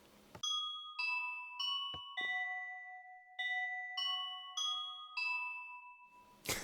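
A video game doorbell built from note blocks plays a short, bright chiming melody of about nine evenly spaced tones, clear and alone, ending in a brief burst of noise.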